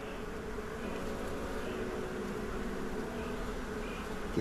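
Honey bees buzz around a hive frame during a spring honey harvest, a dense, continuous drone close by, with no talking.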